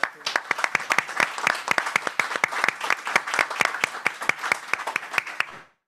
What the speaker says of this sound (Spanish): con un gran aplauso de parte de todos